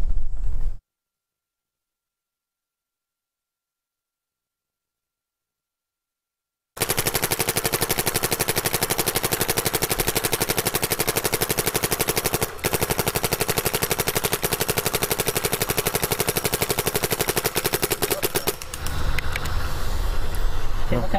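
A Planet Eclipse Ego 10 paintball marker fires long, rapid strings of loud, close shots outdoors after a stretch of silence, the burst pausing briefly midway.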